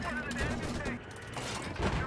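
LAV autocannon fire in Battlefield 4, a rapid stream of heavy shots, moderately loud, with a short break partway through and a brief overlapping voice.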